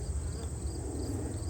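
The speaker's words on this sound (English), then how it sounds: "Now I'm going to rile them up with the bee brush." Honeybees, riled up with a bee brush at an open colony, make a steady, dense buzzing hum, close and continuous, with no voices.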